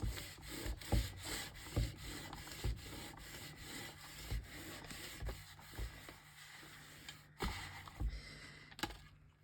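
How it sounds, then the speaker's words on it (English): Wax crayon, orange, rubbed back and forth across paper, giving a dry scratchy rasp in steady repeated strokes with small taps between them, fairly quiet and close with no talking. "So basically, I just rubbed my wax crayon."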